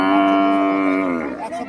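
A Nepali-breed cow at a busy cattle market gives one long, loud, close moo lasting over a second, its tone sliding and wavering as it trails off.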